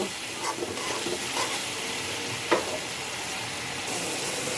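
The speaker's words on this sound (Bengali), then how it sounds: "আমি সুন্দর করে মশলাটাকে কষিয়ে নিলাম" Spice paste frying in a pan while being stirred for a Bengali muri ghonto of rohu fish head with masoor dal; a steady close sizzle with soft scraping strokes and one brief sharper clink.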